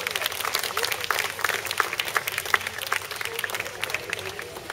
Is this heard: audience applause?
yes